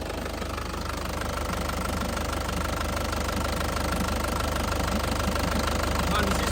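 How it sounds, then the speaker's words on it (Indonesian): A warm Isuzu Panther Grand Touring 2012 diesel engine idling smoothly, a steady, close, loud rhythmic knock and rumble running without change throughout. "Mesinnya juga anteng, tidak pincang ya, tidak pincang, tidak goyang, menandakan mesin sehat ya."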